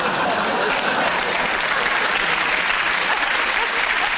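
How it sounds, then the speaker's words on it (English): A studio audience applauds steadily on a comedy panel show, a dense continuous wash of clapping at even loudness with no pauses. "Just think about what you're applauding"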